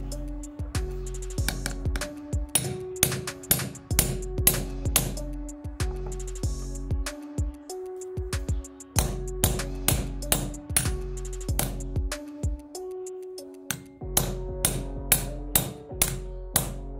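Rapid metallic hammer strikes ring out in bursts, dozens of sharp close blows with short pauses between runs, hammering to crimp a cable terminal on the floor.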